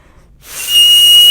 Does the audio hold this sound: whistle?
yes